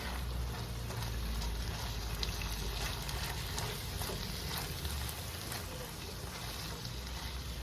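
Ground meat fried rice with carrots being stirred and tossed in a hot pan, giving a steady, close sizzle and crackle that holds evenly throughout with no talking.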